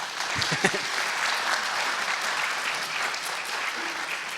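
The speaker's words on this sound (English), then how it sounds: "Everybody clap for him and say hi." Employees at an all-staff meeting applaud their new county attorney, a steady wash of many hands clapping that holds evenly throughout at moderate volume, with a few scattered louder claps near the start.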